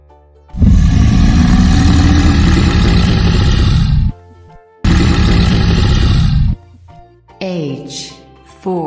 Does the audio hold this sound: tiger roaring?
yes